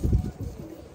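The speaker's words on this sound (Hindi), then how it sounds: "फुलसिरा का एक पेयर है ये" A pair of Phulsira pigeons coo in a loft, making a few soft low throaty pulses close by.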